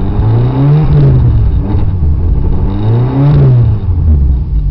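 A stubborn, finicky car engine on a cold first start of the day revs up twice under light throttle, rising and falling in two smooth swells close by.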